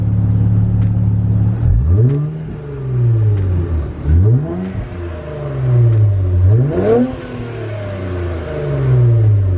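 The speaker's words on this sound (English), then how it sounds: "Give it a couple revs." A car engine idling loudly nearby, then revved several times in succession, each rev rising and falling back to a deep rumble.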